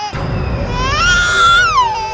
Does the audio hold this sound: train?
no